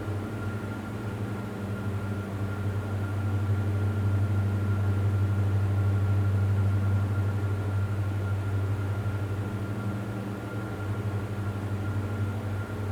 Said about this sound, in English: If you weren't wearing noise-cancelling headphones, would the engines be this soft IRL?